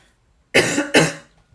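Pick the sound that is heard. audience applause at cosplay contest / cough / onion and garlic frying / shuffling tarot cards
cough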